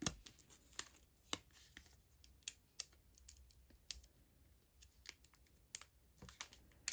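A packet of mini stickers is handled and opened indoors, giving soft, scattered crinkles, tears and rustles at close range, with no talking.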